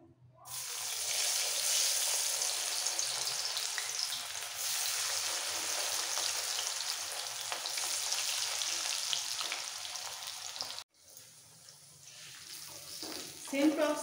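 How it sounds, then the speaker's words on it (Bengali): Spiced bitter gourd slices fry in hot oil with a dense, steady sizzle and crackle heard up close, briefly cutting out near the end before a quieter sizzle and a few clinks return. "এই করলাগুলো ভেজে নেব"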